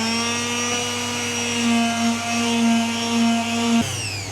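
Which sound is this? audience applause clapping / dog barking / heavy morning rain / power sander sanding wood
power sander sanding wood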